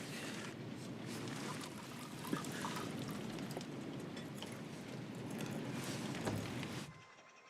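Liquid poured while making coffee aboard a sailboat crossing the Arctic Ocean, a steady close trickling splash lasting several seconds under a low hum, then stopping.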